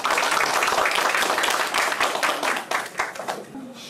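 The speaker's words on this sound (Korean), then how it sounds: "그럼 힘찬 박수를 시작으로 김명희 교수님의 발표를 듣도록 하겠습니다." A crowd applauds for a few seconds, dense clapping that slowly thins out toward the end.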